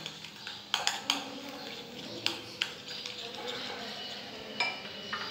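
Mayonnaise being mixed in a bowl for a chicken sandwich, soft stirring and scraping with occasional sharp clinks of a utensil against the dish, close and fairly quiet, with faint speech in the background.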